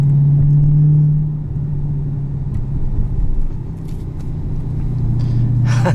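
A 2016 Dodge Challenger Hellcat with an automatic gearbox rumbles loud and close, a steady deep engine drone that eases after the first second and swells again near the end, heard alone.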